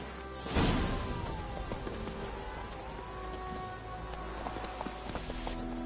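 In a video game, the horse Roach gallops in a rhythmic clip-clop of hooves that starts with a sharp burst and keeps a steady pace at moderate loudness, with no talking.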